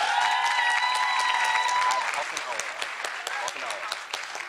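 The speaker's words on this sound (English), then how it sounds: "give everyone here one more round of applause for that" Audience at a summit session applauds loudly, dense clapping with some voices and cheering at first, then easing into thinner, scattered claps as it fades.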